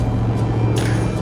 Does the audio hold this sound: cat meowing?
no